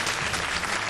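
A studio audience applauds on a morning chat show, a brief, steady wash of clapping with no break.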